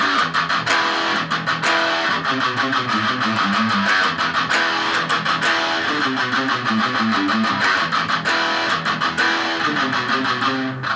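A riff on electric guitar, played loud and continuous with dense picked notes, wide stretched fingerings and a steady driving rhythm, alone with no voices.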